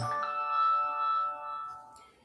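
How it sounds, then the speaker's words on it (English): A phone notification goes off with a bright, ringing electronic chime whose tones sustain and then fade away over about two seconds, heard alone without talk. "My phone just going off."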